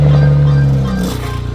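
BMW E90 2007 335i with the N54 engine and ARM catless downpipes, rumbling close at idle with a steady low exhaust drone that dips and settles partway through, alone with no talking.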